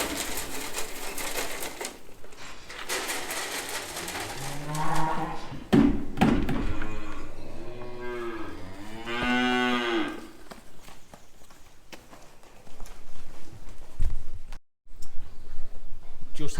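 Calves in a cattle shed give repeated loud, drawn-out moos, several overlapping calls close by, with clattering shed noise in between and no talking.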